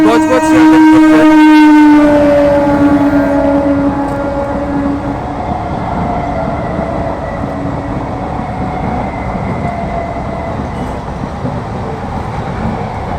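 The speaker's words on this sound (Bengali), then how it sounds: "দেখুন এখান দিয়ে একটি ট্রেন এক্ষুনি যাবে। এই দেখতে পাচ্ছেন ট্রেনটি যাচ্ছে" A Budge Budge–Sealdah suburban train passes in Kolkata, opening with a loud, near horn blast that fades into the steady rumble and clatter of wagons rolling by.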